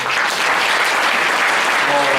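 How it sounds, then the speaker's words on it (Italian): Applause from an audience at a community performance, full crowd clapping held at a steady level from start to finish, with no voices standing out over it. "facciamo un applauso a"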